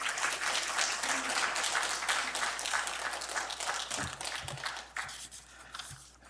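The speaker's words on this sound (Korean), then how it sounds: "하나님께 영광의 박수 올려드리겠습니다" A Korean church congregation applauds at a Sunday worship service, with full, sustained clapping that thins slightly toward the end. A few low thumps sound near the close.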